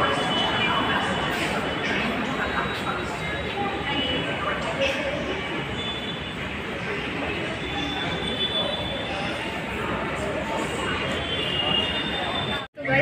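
A metro train rumbles and rattles through a busy station or carriage, a continuous loud rolling noise with wheel clatter, while people talk in the background.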